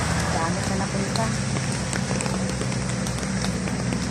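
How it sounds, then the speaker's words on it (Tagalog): Heavy rain pours steadily outdoors, a dense continuous hiss of drops on surfaces with low rumbling underneath, loud and unbroken throughout. "Naulan talaga"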